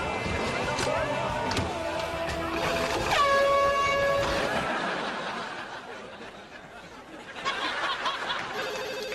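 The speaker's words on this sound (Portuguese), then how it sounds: "Atende logo o telefone." A telephone rings repeatedly in a dubbed TV sitcom scene, its bright tonal rings loud in the foreground and mixed with background voices and laughter.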